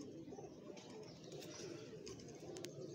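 A pigeon coos softly and close by in a quiet outdoor setting, low murmuring calls with a few faint high chirps over background noise.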